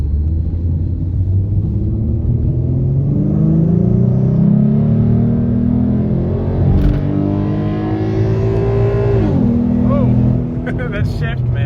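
An Alpha 9 Nissan GT-R with raised line pressure pulls hard at full throttle, its engine note climbing steadily to 7,000 rpm before a sharp shift drop, loud and close from inside the cabin with voices over it.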